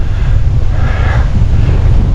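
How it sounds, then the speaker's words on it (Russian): Strong gusting wind roars steadily across the microphone during a bike ride just after leaving a forest, a dense continuous low rumble with no voices. "Ураганишка опять начался, я выехал с леса."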